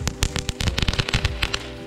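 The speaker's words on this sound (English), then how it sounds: "Hey, you get little fireworks too." Small fireworks lit with a plasma lighter crackle in a rapid, irregular burst of sharp pops and snaps, close and loud, with no talk over them.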